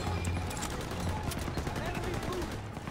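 Rapid bursts of gunfire in Call of Duty WW2, rattling in quick succession at moderate volume over a low rumble of battle noise.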